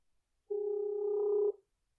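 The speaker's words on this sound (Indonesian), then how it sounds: "Yuk, telepon langsung." A steady telephone dial tone sounds alone for about a second while a call is placed to a podcast guest, a clean continuous electronic hum with no talk over it.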